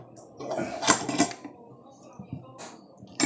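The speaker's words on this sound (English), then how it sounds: "I grab the tension wrench" Small metallic clicks and scrapes of lock picking with a thin, bent tension wrench, faint and close, coming in irregular bursts with quiet gaps between them.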